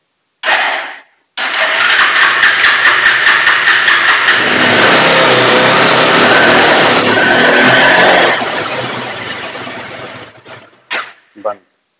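A Bajaj Pulsar 180 motorcycle with a pickup and RPM fault fires up after a short voice, its engine running steadily and loud for several seconds before cutting out abruptly, followed by brief clicks and a few words.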